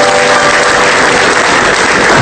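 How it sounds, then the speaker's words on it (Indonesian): A studio audience claps for Komeng Tato on an Indonesian evening comedy show, giving a loud, dense, steady burst of applause that fills the whole moment with no voices over it. "Tepuk tangan untuk Komeng Tato"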